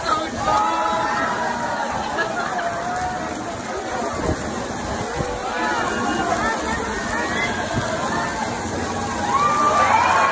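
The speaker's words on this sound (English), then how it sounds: "The crowd starts to cheer." A crowd at a Disney park shouts and cheers, children's voices high and excited over a steady wash of rain-like hiss, with a swell of cheering near the end.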